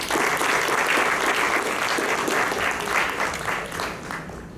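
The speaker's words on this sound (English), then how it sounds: "So a huge round of applause to each and every doctor, healthcare worker, and all the family members that have supported them." An audience applauds doctors and healthcare workers at an emergency medicine certification event held by Apollo Hospitals and the Royal College of Emergency Medicine, a dense, steady round of clapping that holds for several seconds before easing slightly.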